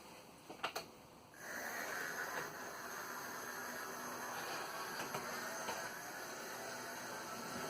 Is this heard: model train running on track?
yes